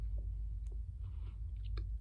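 Bread spread with homemade butter is chewed close to the mic, a few soft, quiet bites and mouth sounds over a low background hum.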